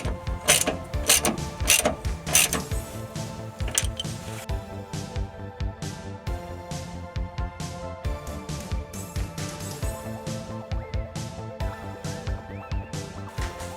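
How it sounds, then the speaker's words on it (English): Bolts on newly installed Mazda Miata sway bars are tightened with a ratchet, giving a run of quick clicking and clattering mechanical bursts, close and fairly loud, with short pauses between strokes and no talk. "So now we're just tightening down everything, making sure"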